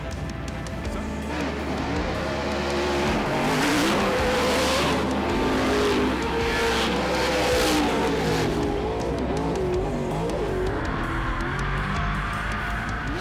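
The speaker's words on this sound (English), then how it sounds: "Remember, Ronnie's in that Pro 2 truck." Pro 2 off-road racing trucks on a race track roar continuously at full throttle, engines revving and surging with tire noise, loud and sustained throughout.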